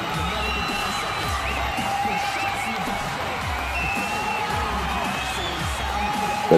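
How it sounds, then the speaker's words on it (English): A WWE 2K18 wrestling arena crowd keeps up a steady, dense roar of cheering and chanting, with commentary talk running over it throughout. "The crowd is ready."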